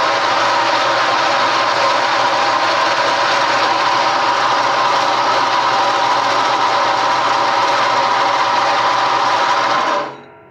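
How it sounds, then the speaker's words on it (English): A bandsaw cuts through a piece of quarter-inch steel plate, giving a loud, steady, continuous mechanical whir with a gritty cutting buzz that runs unbroken for about ten seconds before stopping. "So let's head over to the bandsaw."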